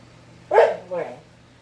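A puppy with a flea allergy gives two short, close barks, the first louder and the second slightly softer, against a quiet indoor background.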